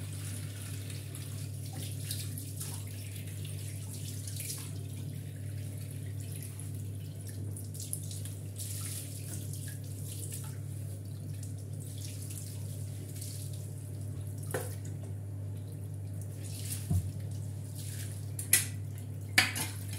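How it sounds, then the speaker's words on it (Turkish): Dishes being washed at a kitchen sink, with steady running tap water under scattered clinks of plates and cutlery and a few sharper knocks near the end, close by, over a constant low hum. "Bulaşıkları yıkarken."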